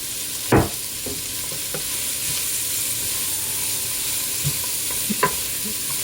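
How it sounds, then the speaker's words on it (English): Onions and garlic fry in a pan with a close, steady sizzle and hiss, broken by a few sharp scrapes and knocks as they are stirred. "just move them around constantly so the garlic doesn't burn"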